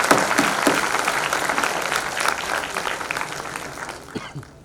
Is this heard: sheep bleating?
no